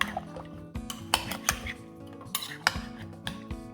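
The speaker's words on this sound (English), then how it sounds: "Stir it up" A spoon stirs meatballs with crushed tomatoes, tomato paste and seasonings in a crockpot, giving irregular close clinks and scrapes against the ceramic pot with soft wet squelches between, over a faint steady hum.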